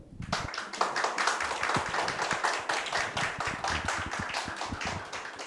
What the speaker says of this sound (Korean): 박수 소리 허용하겠습니다